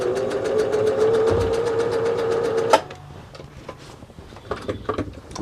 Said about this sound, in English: let's do a zigzag stitch. Let's go fully wide, kind of narrow, and let's sew.